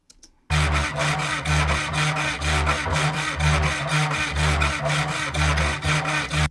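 Harsh, rasping, saw-like cello bowed hard in a steady rhythm of repeated strokes, loud and close, with heavy low accents pulsing underneath, in horror trailer music.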